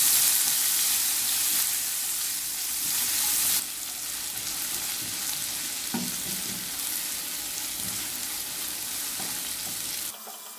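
Finely chopped large onion fries in a pan for potato masala curry, a steady hissing sizzle with occasional stirring knocks, close and unbroken by speech.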